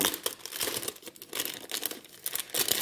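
Close, crisp crinkling of plastic packaging being handled, in irregular rustling bursts with brief quieter pauses.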